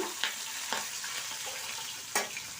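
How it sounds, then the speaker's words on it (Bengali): Pabda fish frying in a pan gives off a steady, soft sizzle with a few sharp clinks or stirring knocks, and no talking. "এখন ভেজে নিচ্ছি মাছ পাবদা মাছগুলোকে"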